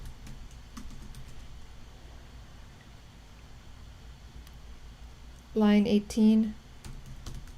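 Fast clattering keystrokes on a computer keyboard during coding, close and steady, with someone talking over them and a louder burst of speech near the end.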